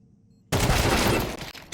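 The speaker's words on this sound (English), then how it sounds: "Perfecto getting in, getting on the bandwagon with that P90" Sustained automatic fire from a P90 submachine gun in a Counter-Strike esports match, erupting suddenly after a near-silent moment and continuing as a loud, dense burst of rapid shots with brief dips near the end.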